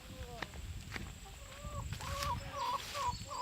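Chickens on a farm cluck and warble close by in a quick series of short calls, over light rustling and outdoor background noise.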